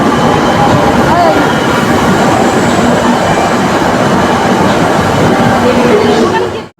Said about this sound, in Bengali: এই যে এবারে মেট্রোর জন্য ওয়েট করছি।